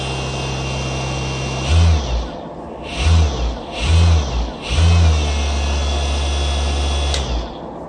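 A 2000W 48V brushless motor kit runs on a test battery with a steady high electric whine, revving up in four short surges of deeper hum before settling back, loud and close, with no voices.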